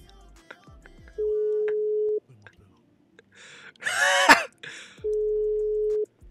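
In a video game, a phone call hits a busy signal: two long, steady electronic tones, separated by a loud breathy gasp and throat noise from a nearby voice.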